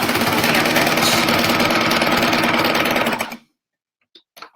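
A sewing machine runs steadily on a burp cloth with a ruffle, backstitching at a corner, giving a fast, even mechanical whir for about three seconds before stopping abruptly, followed by a couple of faint clicks.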